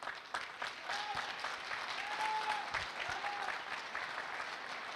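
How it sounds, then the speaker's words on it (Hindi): An audience applauds at a Safe Shop business training seminar, a dense sustained wash of many hands clapping at once that stays full and even throughout, with a few faint tonal whistles or cheers above it. "तालियां होनी चाहिए।"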